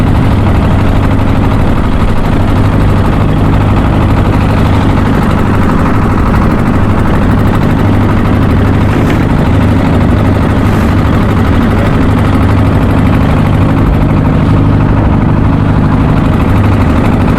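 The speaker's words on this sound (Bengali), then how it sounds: "আমাদের ট্রলার সেই পদ্মা সেতুর দিকে এগিয়ে যাচ্ছে" A trawler boat's engine drones steadily and loudly on the Padma River near the Padma Bridge, a continuous low rumble with no pauses or talk.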